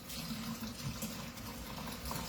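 Tap water runs and splashes into a container being filled with Clorox to soak dish rags, a steady close gurgling stream with no one talking over it.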